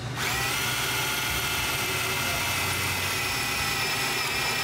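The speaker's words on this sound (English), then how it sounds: "So now we're gonna grab our drill, our hardware, drill that real quick" A power drill runs continuously, boring a 1/4-inch hole to mount a ZZP cold air intake on a Chevrolet Cobalt SS; a steady, close, loud whine holds throughout with no talking.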